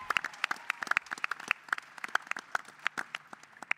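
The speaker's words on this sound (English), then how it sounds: "Give him a round of applause." Audience applause at a Black Caucus panel event, a small crowd clapping in sharp, scattered claps that stay fairly faint and steady throughout, with no speech over it.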